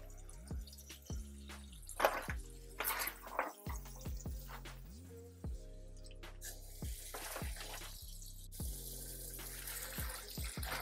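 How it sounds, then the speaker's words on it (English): Tap water running into a kitchen sink filling to wash collard greens, a continuous splashing flow with drips and light swishing, fairly quiet and close, under a low steady hum with no talk. "let that sink get filled up just to cover the greens."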